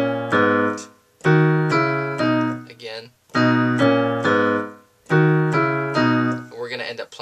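Piano playing a sustained chord voicing from a worship song, struck in repeated ringing blocks with short phrases between, and a voice speaking briefly near the end.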